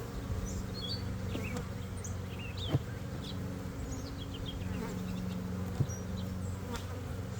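Honeybees buzz steadily around frames being shaken during a hive split, a dense close hum with a few sharp knocks, no talking.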